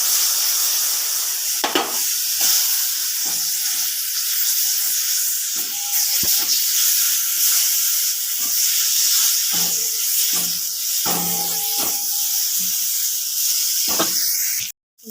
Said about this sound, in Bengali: এর মধ্যে আমি সরষে আর লঙ্কা বাটাটা দিয়ে দেবো